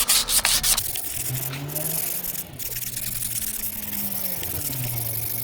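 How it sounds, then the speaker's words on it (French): The clutch friction surface of a Renault Kangoo is deglazed by hand with abrasive, giving a continuous, close rasping scrape with short strokes at the start, then steady rubbing to the end. "moi ce que je fais toujours, c'est que je déglace la surface."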